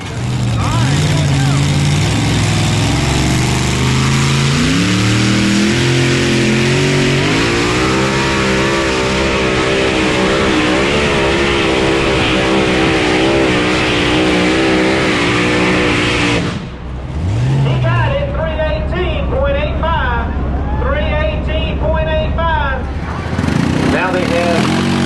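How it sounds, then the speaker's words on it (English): A Chevrolet pulling truck's engine roars loud and sustained at a South Boston, Virginia truck and tractor pull, bouncing against the rev limiter with wavering pitch before a brief drop and renewed roar, while an announcer talks over it. "That rev limiter is pulling that motor back a little bit to keep it from singing too high"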